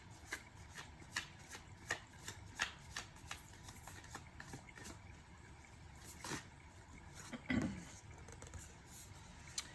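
Tarot cards being shuffled by hand, a quiet run of soft riffling snaps and flutters in an irregular rhythm, close up, with no talking.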